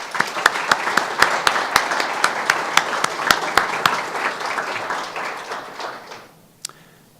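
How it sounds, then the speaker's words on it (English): Audience applause at a General Atomics company opening ceremony: steady, dense clapping from a crowd with sharp individual claps standing out, fading out near the end, followed by one isolated clap. "let's have a round of applause."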